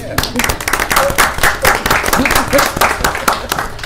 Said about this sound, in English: You can't clap for Ms. Kane?